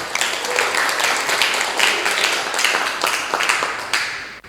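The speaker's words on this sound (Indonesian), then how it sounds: "Kita berikan aplaus dulu" Schoolchildren in a classroom clap for the best-performing group, a dense, steady round of applause that keeps going for several seconds before tapering off.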